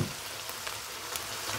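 Chicken cooking in a pan, a soft continuous sizzle, with a faint clink of a utensil at the start and the end.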